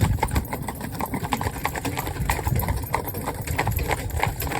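Hooves of a horse team clip-clop steadily at a canter, a continuous rhythmic patter of many beats over low rumbling wheels and outdoor noise, fairly close and loud.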